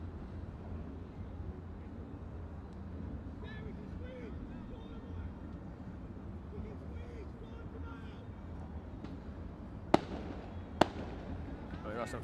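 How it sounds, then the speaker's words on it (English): Fireworks go off in the distance behind a football match, with a few sharp bangs near the end rising over a steady crowd-and-field murmur and faint voices. "Some fireworks going on in the background. There's all that banging"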